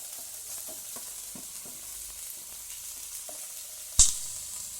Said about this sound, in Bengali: পেঁয়াজটা ভাজা হয়